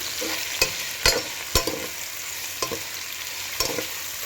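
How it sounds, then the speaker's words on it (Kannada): Onions and a fresh bay leaf fry in a pan for mushroom biryani, a steady close sizzle punctuated by about six sharp scraping spatula strokes, with no one talking. "ಈಗ ಹಾಕ್ಬಿಟ್ಟು ಈರುಳ್ಳಿ ಜೊತೆಗೇ ಇದಕ್ಕೆ ಫ್ರೈ ಮಾಡ್ಕೊಳ್ಳಿ"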